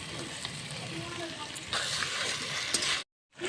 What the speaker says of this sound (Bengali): এখন আমি এই পোস্ত বাটা দিয়ে আরেকটু আবার কষিয়ে নেব।